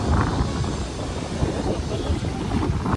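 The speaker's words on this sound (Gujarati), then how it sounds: "પવન કેટલો જોરદાર આવે છે" Strong mountain wind sweeps through Badrinath, a loud, continuous roar buffeting the microphone without pause for the whole stretch.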